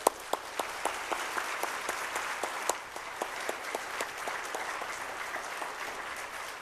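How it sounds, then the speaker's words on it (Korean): A church congregation at a Wednesday worship service warmly applauds a pastor coming forward, with steady, moderately distant clapping lasting throughout. "나오실 때 우리 뜨거운 박수로 맞이하겠습니다"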